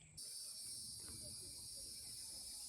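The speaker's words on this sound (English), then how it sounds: "Those cicadas are the sound of summer around here." A loud, steady high-pitched insect drone of cicadas starts abruptly and holds constant, with faint low rumbling beneath, on a North Florida prairie.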